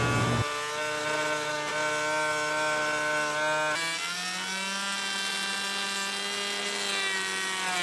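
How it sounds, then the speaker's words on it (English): An electric plane shapes a wooden mizzen mast for a small cruising dinghy. It gives a loud, steady motor whine that drops in pitch partway through as the blade loads up in the wood. "work it down with an electric plane to final dimensions"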